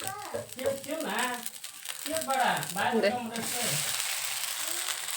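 Rice uttapam sizzles in oil on a pan, a continuous hiss that grows steadier toward the end, heard under a person talking.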